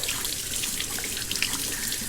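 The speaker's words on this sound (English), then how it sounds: "take the screen filter out of there, just rinse the coffee grounds out of it" Tap water runs steadily over a coffee maker's screen filter, rinsing out the coffee grounds; a constant, fairly quiet rushing splash with no break and no talk.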